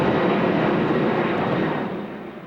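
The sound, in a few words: airplanes flying overhead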